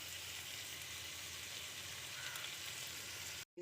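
Onions sizzle and fry steadily in a hot pan, a continuous close crackling hiss that is faint and even throughout, with no voices.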